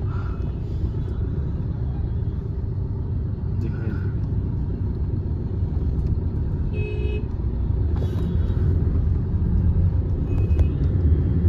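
Steady, loud rumble of Delhi road traffic passing a gurdwara, with several short car horn toots rising over the continuous engine noise.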